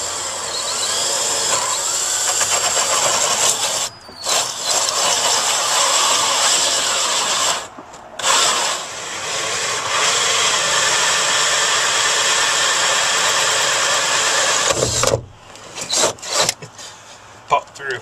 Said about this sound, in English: 2 3/4 inch hole saw, so we're going to get going with that.